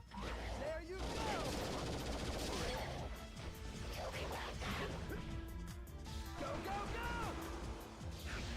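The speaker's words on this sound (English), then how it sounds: "Doctor Doom missiles." Doctor Doom's missiles fire in a video game as a dense barrage of whooshes, blasts and crashing impacts, with game effects layered over continuous rumble.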